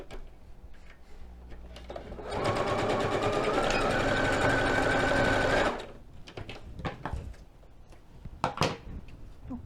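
A sewing machine stitches a cord onto the side seam of a small fabric doll's backpack in one rapid, steady burst lasting about three seconds. Quieter handling sounds and someone speaking come before and after the stitching.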